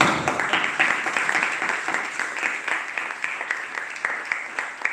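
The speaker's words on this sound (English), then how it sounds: "We want to give you a short applause" Short burst of audience applause at an event at the Goethe Institut in Rome, steady dense clapping from a room of people with no voices over it.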